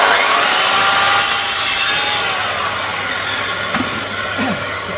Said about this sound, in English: drop the saw from the half flat cut to a full cut